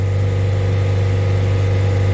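A car engine held at full throttle around 3000 rpm gives a steady, loud, even drone with a strong low hum, running on without a break and with no talk over it.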